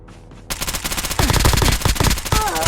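Rapid automatic gunfire from Call of Duty Mobile, an M4 rifle in a solo battle royale match, starting after a quiet moment and continuing as dense, loud bursts of shots, alone without talk.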